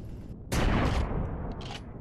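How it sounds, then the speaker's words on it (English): An artillery turret fires in the video game Empyrion: a sharp, loud boom hits about halfway through over steady background noise, followed by a rumbling tail and a couple of fainter reports. "I was determined to use this artillery turret."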